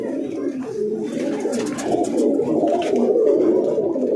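White tournament racing pigeons at a home loft coo in soft, low, overlapping murmurs that continue steadily throughout and grow slightly louder toward the end.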